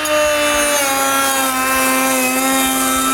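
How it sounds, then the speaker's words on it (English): A router fitted with a half-inch slot cutting bit cuts a panel groove in wood, giving a loud, continuous whining drone with a steady pitch that holds unbroken throughout. "Then I put a 1/2 inch slot cutting bit in the router at the height of 1/4 of an inch"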